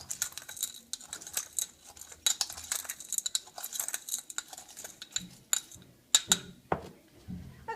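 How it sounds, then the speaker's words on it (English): A mixture of solids is stirred inside a container, making irregular, fairly quiet clinks and rattles. The chinking comes in scattered bursts that grow a little busier toward the end, with no speech. "I'm also going to stir those up"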